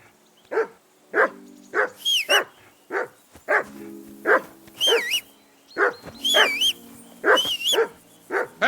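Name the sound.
dog barking in Kingdom Come: Deliverance 2 video game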